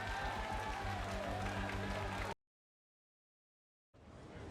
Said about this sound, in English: My whole team's clapping for man.